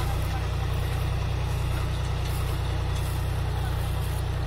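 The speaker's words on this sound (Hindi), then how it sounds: "इसमें ट्रैक्टर का जो साउंड है बहुत ही कम है, साइलेंटली ट्रैक्टर है भाइयों फुल" A John Deere 5205 tractor, 50 hp, pulls a harrow through a field, its engine a steady low droning rumble with a pulsing throb, close and constant throughout.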